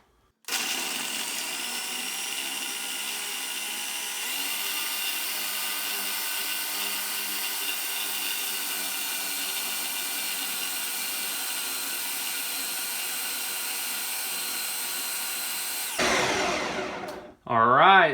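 A food processor runs steadily for a long stretch as it blends chocolate peanut butter nice cream, a loud, close whirring drone that cuts off abruptly, followed by brief clattering as the lid is handled.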